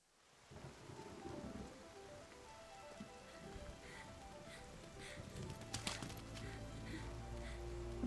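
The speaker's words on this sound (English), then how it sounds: "Running in the rain." Steady rain falls in Zelda: Breath of the Wild, a dense continuous hiss with faint rumbling thunder underneath and a brief louder burst near the end, without talk.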